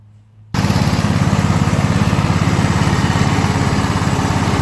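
A Craftsman riding lawn tractor with a 16.5 HP Kohler engine and 42-inch deck starts abruptly after a brief quiet moment, then runs loud and close with a steady, rough droning rumble and no talking.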